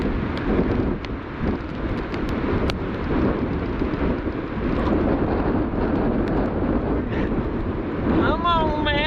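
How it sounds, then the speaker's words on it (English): Strong wind of about 50 mph sweeps across an open frozen lake in freezing temperatures, a loud continuous rumbling roar buffeting the microphone, with a person speaking over it. "This wind's pretty intense."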